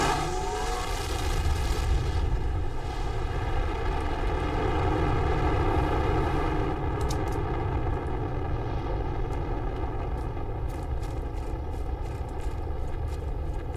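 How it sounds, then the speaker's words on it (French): A rocket launches in the survival game Planet Crafter with a loud, continuous engine roar and steady droning tones that hold for the whole stretch, joined late by faint clicks. "Et notre première fusée, c'est pas merveilleux. Alors, faisons-la décoller."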